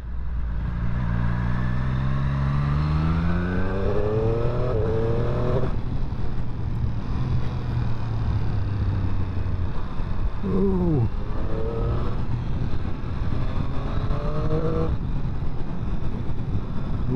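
A Triumph Street Triple RS motorcycle ridden along a coast road, its engine note steadily rising and falling through gear changes as it accelerates, with constant wind rush and no talk.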